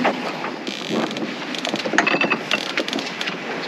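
Wind rushing over a sailboat at sea off Costa Rica, a loud buffeting roar against the microphone with creaks and knocks from the boat's rigging and wood.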